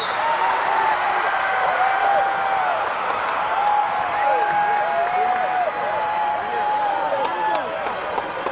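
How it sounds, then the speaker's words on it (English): Crowd at a high school state championship football game applauding the Division I champion Kahuku Red Raiders, steady clapping with cheers and whoops from many people, while an announcer speaks over the stadium public address. "let's give a warm round of applause. And now the Division I state champion, the Kahuku Red Raiders"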